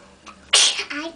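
A single sharp sneeze bursts out close and loud at a children's play tea party, with a small voice heard faintly just before it.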